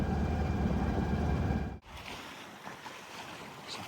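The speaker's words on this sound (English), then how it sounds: "Motoring a little bit this morning." A sailboat motoring under engine power on a calm morning off Whidbey Island, with a steady low engine drone and water rush that cuts out abruptly, leaving softer wind and water noise.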